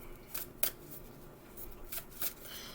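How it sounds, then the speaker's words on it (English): Tarot cards being shuffled in quick, crisp riffling bursts, soft and close, with short pauses between shuffles. "Okay, that's my last shuffle."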